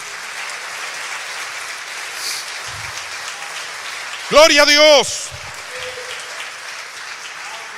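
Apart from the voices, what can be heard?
congregation applauding in church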